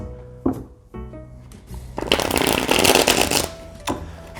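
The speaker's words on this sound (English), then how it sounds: "now it's time for the shuffle test" Ohanami board game cards being shuffled on a table, a steady riffling and rustling burst that swells loud in the middle, with light card handling taps before and after.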